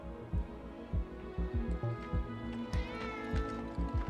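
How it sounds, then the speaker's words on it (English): A cat meows several times nearby in a room during a Need For Speed Underground gaming stream, short repeated calls over a steady background hum. "Did you hear that just now? The cat's standing right there."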